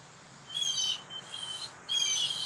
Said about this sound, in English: Wow, that's a lot of arguing going on with the birds.